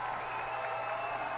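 A crowd claps steadily for Alexis, a dense and even wash of applause with no break across the short stretch.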